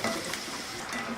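Samosas frying in hot oil, a continuous soft sizzle and bubbling with faint crackle, fairly quiet and steady without any talking.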